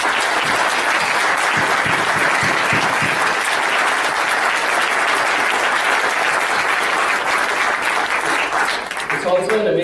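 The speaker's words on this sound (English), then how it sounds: "need to receive a round of applause" A round of applause at a charity's closing ceremony, loud sustained clapping from a large crowd that holds steady for several seconds before voices break in near the end.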